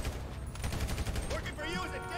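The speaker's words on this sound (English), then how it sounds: "These last two I have to kill with the AR" Assault rifle fire in Grand Theft Auto V, a dense burst of rapid shots crackling under a game soundtrack, with a brief whooshing tail near the end.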